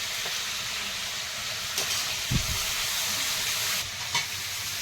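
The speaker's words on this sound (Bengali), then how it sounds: "এবারে পেঁয়াজ কুচিটা দেবো আদা বাটা রসুন বাটা দিয়ে দেবো" Chopped onion with ginger and garlic paste frying in a pan makes a constant dense sizzle, broken by a few soft stirring scrapes and knocks, close by and without speech.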